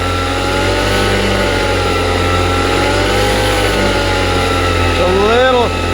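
A 78cc ATOM 80 two-stroke light aircraft engine runs steadily at high revs, loud and close, with a rising and falling pitch sweep near the end as the throttle changes.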